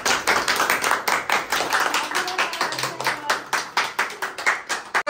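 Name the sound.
people clapping hands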